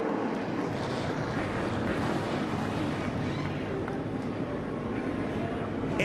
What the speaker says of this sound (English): engines have come to life